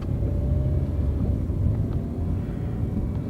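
A small, short-wheelbase car with a new transmission drives slowly along a bumpy road. Its engine gives a low, continuous rumble close to the microphone with no talking.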